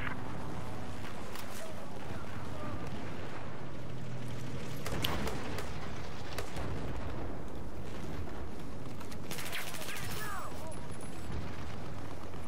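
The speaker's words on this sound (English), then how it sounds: "I got bullets pinging all around me." Dense gunfire with bullets snapping and pinging around the player in a Battlefield video game, loud and continuous with heavy booming blasts mixed in.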